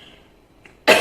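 A single sharp, loud cough from a person who had eaten a lot of fried food, bursting out near the end after quiet room tone.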